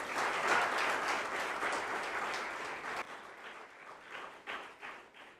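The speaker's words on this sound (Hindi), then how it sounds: "जोरदार ताली बजा के आप स्वागत कर सकते हो" An audience at an inaugural ceremony applauds. Dense, loud clapping fills the first three seconds, then thins into scattered, fading claps.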